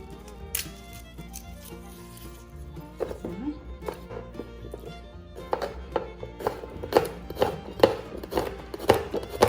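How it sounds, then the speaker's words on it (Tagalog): Knife chopping onions on a cutting board for spaghetti and meatballs, a rapid series of close, sharp thunks that grows denser and louder toward the end, over faint background music. "we're going to chop the onions."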